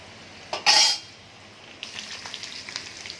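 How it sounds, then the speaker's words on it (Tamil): Vattal, sun-dried vegetables, frying in hot oil: a sharp loud sizzle burst as they hit the oil, then a softer crackling fry with light utensil clinks. "இப்போ வத்தல் அதை பொரித்து எடுத்துட்டேன்."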